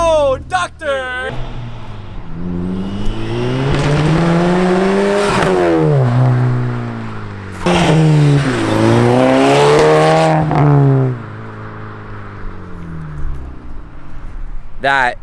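A Mk6 Volkswagen GTI with a catless, very loud exhaust revs hard in long rising and falling sweeps, close and raspy, with short blips at the start and excited voices talking around the revs.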